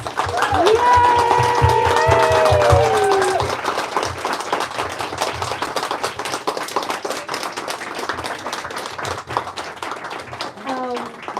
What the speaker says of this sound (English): Should we do a big round of applause?